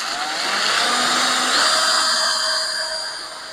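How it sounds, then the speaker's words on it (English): A power drill whirs steadily at high speed, spinning a vintage Team Associated RC10 T2 part against 220-grit sandpaper, its pitch shifting slightly as the part is polished; the motor hum is continuous with no voices. "We are lightly chucking them up in a drill."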